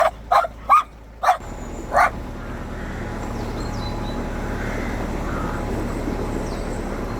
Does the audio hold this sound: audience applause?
no